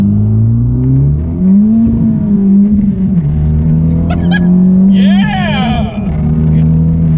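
2019 Honda Civic Type R (FK8) engine revving loudly from inside the cabin during a clumsy rev-matched downshift, the tone climbing and settling, with a short whine and chirp near the end.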